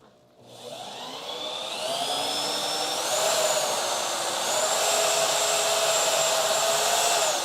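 A drill bores through metal lubricated with cutting oil, working on a crew cab Charger build: a steady, loud whining grind that climbs in pitch as the bit bites and stays sustained to the end.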